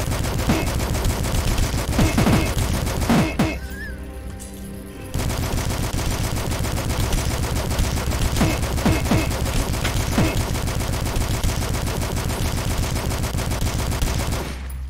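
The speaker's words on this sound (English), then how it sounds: "Assault rifle." Assault rifle fire in the retro shooter DUSK: loud, sustained rapid automatic bursts filling most of the stretch, with one brief pause early on before the shooting resumes.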